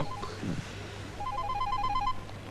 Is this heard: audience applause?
no